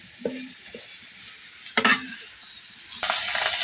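Shrimp tipped into a hot pan with dried fish and fried onion, giving a steady close sizzle with a few sharp bursts of spitting as the pieces hit the oil, swelling louder toward the end.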